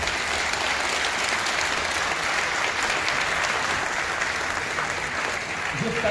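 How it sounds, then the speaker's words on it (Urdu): An audience in Jamia's Ansari auditorium at a Husain Day gathering gives the host a sustained, dense round of applause that stays loud and even for about six seconds. "اور آج کے اس ناظم صاحب کے لیے آپ زوردار تالی بجائیے."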